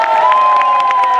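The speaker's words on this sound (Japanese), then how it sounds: "待て待て2日間盛り上げた市川殿にお手拍手" A live stage show audience cheers and applauds in a loud, continuous wash of crowd noise, with shouts rising over the clapping.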